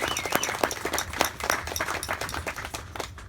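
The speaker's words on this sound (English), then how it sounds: "Please give her a big round of applause." Crowd applause for Laura Rayner at the dedication of the William Ivey Long Family Home: many hands clapping in a dense, steady patter, moderately distant, thinning slightly toward the end.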